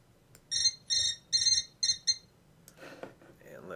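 Ringing office phone effect: five quick electronic trill bursts in an even rhythm, clear and close, followed by a brief rustle of handling noise.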